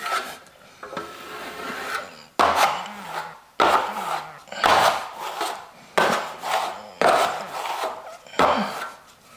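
A big plastering trowel sweeps wet plaster across a wall in repeated rasping, scraping strokes, each pass starting sharply and fading, close and fairly loud with no talk.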